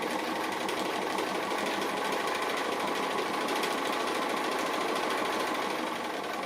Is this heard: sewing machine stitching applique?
yes